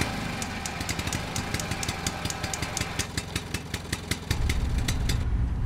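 A Tadano crane's engine runs steadily up close, with a fast, even chugging rhythm that grows a little louder toward the end. No one speaks over it.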